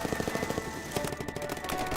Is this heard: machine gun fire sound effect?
yes